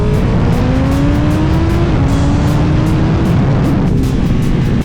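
A Honda CBR 1000RR motorcycle accelerates hard, its loud engine note climbing steadily through the revs with a brief dip partway through, heard up close over heavy continuous roar.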